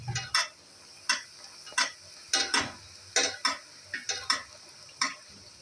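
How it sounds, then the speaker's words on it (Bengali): Moghlai paratha frying slowly in oil in a pan, with a soft steady sizzle broken by a dozen or so sharp spatula taps and scrapes at an uneven rhythm. "এরকম করে আস্তে আস্তে ভাজতে হবে, তাহলে ভেতরের যে এটা খুব সুন্দরভাবে হয়ে আসবে"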